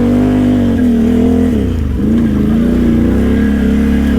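A Can-Am Outlander 800 ATV engine revs loudly and steadily up close, its pitch dipping and rising as the throttle changes, with no talking over it.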